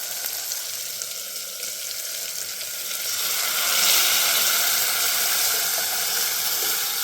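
Boiled dal poured into a hot tempering of spices and turmeric for Gujarati dal dhokli, giving a steady, close sizzle that grows louder and more intense partway through, with no talk.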